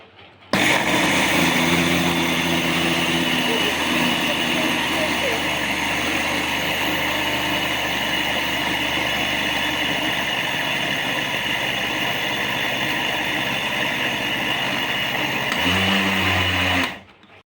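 An electric grinder blends sesame seeds with water into a paste, a loud, steady whirring drone running unbroken for about fifteen seconds before stopping abruptly.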